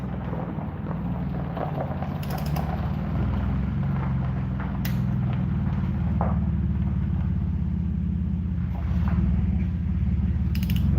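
A ratchet wrench clicks away while torquing down bolts on a pulled engine, a steady mechanical ratcheting close up over a low droning hum, with a few sharper clanks along the way.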